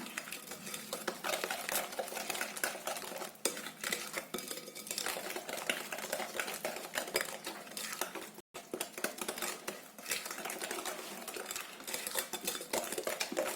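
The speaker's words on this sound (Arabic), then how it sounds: "وغادي نخلطو ونبقاو نزيدو الدقيق شويه بشويه" Milk powder and flour are stirred together into a dough for ghriba cookies, giving continuous scraping and soft clinking of a utensil against a bowl, close and steady with one brief break.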